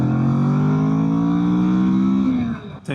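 A Kawasaki Vulcan S 650 cruiser motorcycle engine hums under way as a loud, steady low drone that holds evenly, then breaks off near the end of the short stretch.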